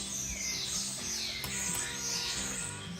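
Starlings and pigeons crowd an old corn silage silo on a farm, giving a dense, continuous wash of high chattering and chirping calls with low cooing underneath, steady and moderately loud throughout, with no talking.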